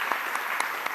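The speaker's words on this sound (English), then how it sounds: "So please, a big round of applause for Silvia as well." Audience applause at a panel event on higher education in the UAE, a brief burst of steady, dense clapping from a crowd, moderately loud with no talk over it.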